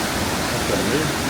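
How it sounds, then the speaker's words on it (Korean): Steady, broadband rushing of a snowmelt-fed waterfall in Mongolia, a continuous roar with no breaks, like standing near the falls. "시원하게 떨어지는 폭포를 바라보며 한참을 머물다"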